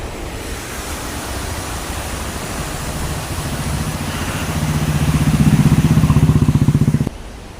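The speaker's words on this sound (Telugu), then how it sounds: "పెద్ద పెద్ద మోటార్లు అండి పెద్ద పెద్ద ఇంజిన్లు అనమాట" Large motors and engines running at the Cotton barrage anicut gate machinery drone as a steady, loud low rumble that swells toward the end before cutting off abruptly. No speech is heard.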